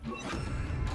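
A Bombarda spell detonates in Hogwarts Legacy with one short, heavy crashing blast that fills the moment loudly.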